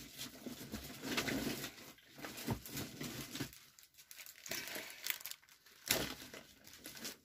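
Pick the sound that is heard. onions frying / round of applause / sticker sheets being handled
sticker sheets being handled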